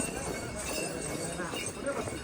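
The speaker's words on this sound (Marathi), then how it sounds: "घोडा निघला आपला धावत धावत।" Horse running along a track, its hooves giving a steady clip-clop amid dense surrounding noise, with people talking throughout.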